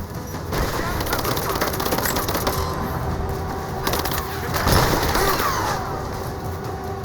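Gunfire crackles through a firefight in Rise of the Tomb Raider at a Soviet installation, rapid bursts and scattered shots over a constant dense background, swelling louder about two-thirds through, with shouted combat callouts mixed in.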